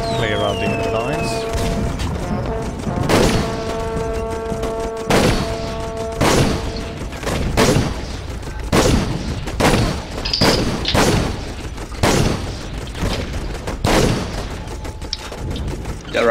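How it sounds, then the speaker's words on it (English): In Toy Soldiers, a World War I strategy game, a sniper tower fires on enemy lines with loud, heavy shots that crack out one after another at steady intervals of roughly one to two seconds over a low battlefield rumble. "Hopping back into the sniper tower to, shall we say, clear out the enemy lines"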